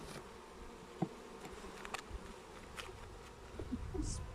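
A steady, low insect buzz of bees fills the background, with a few faint clicks and knocks scattered throughout.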